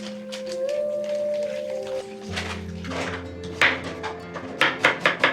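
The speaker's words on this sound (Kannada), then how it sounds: "ಈರುಳ್ಳಿ ಈ ಥರ ಕಟ್ ಮಾಡಿ ಇಟ್ಕೊಂಡಿರ್ಬೇಕು." Onions being chopped with a knife on a board while preparing Hoskote-style dum biryani at home: a run of sharp, separate taps that grows louder and more spaced toward the end, over steady background hum.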